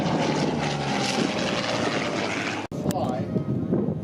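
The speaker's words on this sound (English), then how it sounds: "Top side pass by Ross Bradley in the P-40." A Curtiss P-40 warbird propeller plane roars past at an airshow, a loud broad engine rumble that cuts out abruptly near the end, then a thinner, quieter tail of sound.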